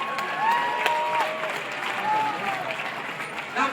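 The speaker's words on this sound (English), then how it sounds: "give him a big round of applause" A zoo audience applauds to welcome Murphy, a male Californian sea lion, and his trainer at a seal show, steady clapping filling the space while a voice carries over it.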